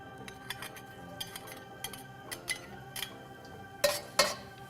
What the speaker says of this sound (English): And we're going to stir fry that until it's slightly golden.